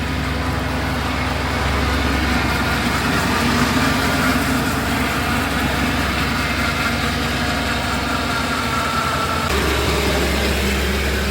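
An old, rust-free truck engine with about 85,000 miles idles steadily, a deep continuous low rumble with a constant mid-range hum, close and unbroken for the whole stretch with no voices.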